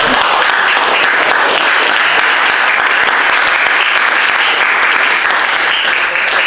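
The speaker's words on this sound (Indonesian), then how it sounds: "Kita berikan sekali lagi tepuk tangan untuk kelompok" Loud, continuous audience applause at the close of a group presentation, a dense wash of clapping filling the room with some voices mixed in.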